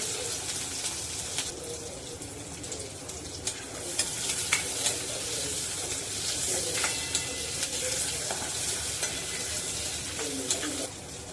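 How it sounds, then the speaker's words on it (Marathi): One vertically sliced onion sautés in a pan until pink for a potato and amaranth bhaji, a continuous close sizzle with scattered clinks and scrapes of stirring, while birds chirp faintly in the background. "कांदा गुलाबी रंग येईल इतका परतायचा आहे"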